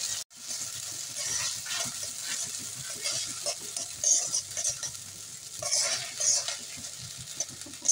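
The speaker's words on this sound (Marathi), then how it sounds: "आता हे रवा जो भिजवला होता तो घालूया आपण।" Soaked semolina tipped into a hot pan with chilli and carrot and stirred, a spoon scraping and stirring over a soft sizzle, close and steady with slight surges.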